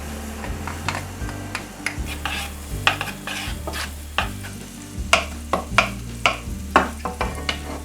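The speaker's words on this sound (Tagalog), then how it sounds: "Let's add 2 tablespoons of cooking oil into the preheated pan. Let's add the garlic." Garlic frying in cooking oil in a preheated pan, a continuous sizzle under repeated sharp utensil taps and scrapes against the pan, with low background music.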